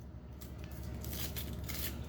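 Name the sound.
knife cutting an onion in half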